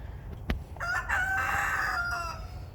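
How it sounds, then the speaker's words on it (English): A rooster crows once, loud and near, in a long drawn-out call that follows a short sharp knock, with chickens roaming outdoors on a morning. "Got some chickens that are out, messing around, being mischievous this morning."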